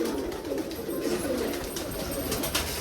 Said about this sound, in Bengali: এই যে এটা ওর জন্য একটা মাদি পায়রা এনেছিলাম